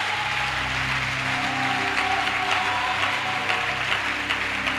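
A congregation at a youth camp worship service applauding and cheering, a steady wash of clapping with sustained music underneath, fairly distant and continuous.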